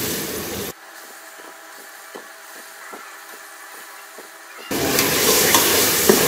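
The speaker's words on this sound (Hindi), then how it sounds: "अब हम इसे थोड़ी देर भूनेंगे" Chana dal and tomatoes frying and being stirred in a pan for a commercial dal chawal dish, with a steady sizzle, rhythmic scraping taps from the spoon, and a louder burst of frying toward the end.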